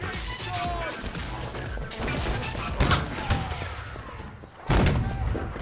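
Scattered shots ring out in the battle game Holdfast, sharp cracks at irregular intervals, with one heavy, close report near the end, over a busy background with people talking.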